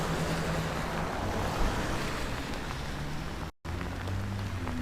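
Rain falls steadily on a wet, windy March day in suburban Los Angeles, a constant broadband hiss of drops on pavement heard while walking, with a brief dropout near the end.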